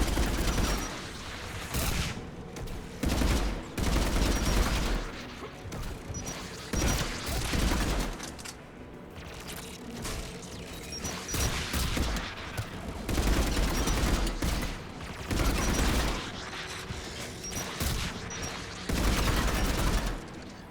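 Anti-aircraft guns fire in the Mass Effect Legendary Edition game, bursts of heavy booming gunfire recurring every few seconds with steady battle noise between them.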